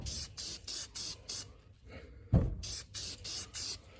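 Oil sprayed from an aerosol onto a K&N air filter in short bursts: a series of close, sharp hissing sprays with brief gaps between them, a pause and a soft knock midway, then more rhythmic bursts.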